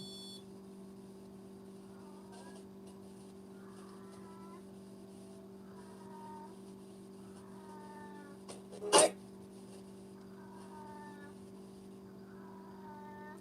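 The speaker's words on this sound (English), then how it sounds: "Do you hear a cat in heat outside of my window?" A cat in heat yowls outside a window in drawn-out, rising meows, repeated at intervals over a steady mechanical hum, with one sharp louder knock near the end.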